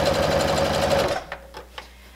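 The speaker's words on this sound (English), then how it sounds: "make sure that nothing is in the way, and continue sewing." A sewing machine stitches an apron in a fast, even, close run of stitches for about a second, then stops; a few soft clicks and handling taps follow in the quiet.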